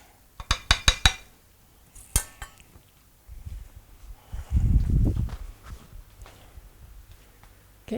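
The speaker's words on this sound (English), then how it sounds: "You start stirring, and what I do now is I'm going to stir a while" A soap mixture with lye is stirred in a pot, heard first as a quick run of sharp metallic clinks and taps, then as duller scraping and knocking of the utensil against the pot.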